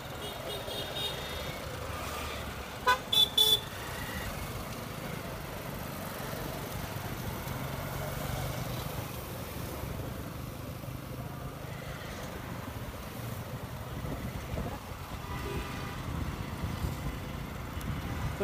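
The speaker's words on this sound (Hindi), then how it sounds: "तो यार गाड़ी को करते हैं स्टार्ट एंड चलते हैं घर के लिए।" Bike taxi motorcycle started and ridden through traffic, a steady engine drone under street noise, with a few sharp clanks early on and the rumble rising toward the end.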